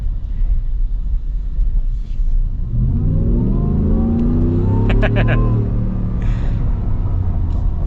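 A 2025 Shelby F-150 off-road truck engine revs hard while accelerating, its rising roar and rumble building loudly and close over about eight seconds, with the exhaust note climbing in pitch.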